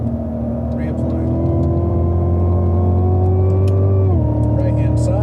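A Cadillac CTS-V engine pulls hard on a racetrack, a loud, steady rising drone heard from inside the car that climbs in pitch and then drops sharply on an upshift, with an instructor talking over it.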